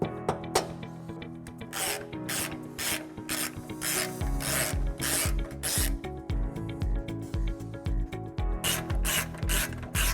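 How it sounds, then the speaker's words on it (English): A flathead screwdriver scrapes glue off nut threads during a 2021 Tesla Model S trailer hitch installation, giving close, repeated rasping strokes in an uneven rhythm with no talk. "we're just going to have to scrape it off with a flathead screwdriver"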